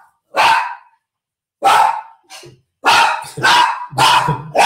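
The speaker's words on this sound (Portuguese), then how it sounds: "desculpa, meu, meu cachorro aqui" A dog barking loudly and close by indoors, a run of five sharp barks in irregular bursts, the last ones coming quickly one after another, with no talk over them.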